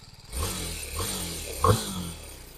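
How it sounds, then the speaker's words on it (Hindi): A BMW motorcycle with a loose nut revs up close, its engine throb carrying a harsh rattling vibration that swells with each twist of the throttle, heard alone. "मैं अभी आपको वाइब्रेशन सुनाता हूँ, बहुत गंदी आ रही है ऐसे"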